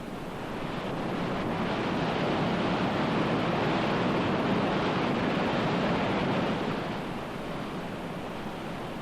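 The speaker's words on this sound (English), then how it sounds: "my ears were saluted with the agreeable sound of a fall of water" A steady, dense roar of rushing water fills the air without pause, loud and continuous like a large waterfall nearby.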